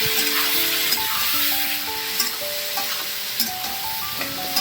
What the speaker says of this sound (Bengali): খুব ভালো করে নেড়ে চেড়ে এটা বেশ খানিকক্ষণ কষাতে হবে।